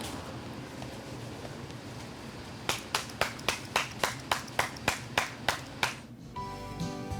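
A person claps hands about twelve times in a steady rhythm beside a garden pond to call red goldfish, the sharp claps close and loud over outdoor wind noise, ending with a brief rustle.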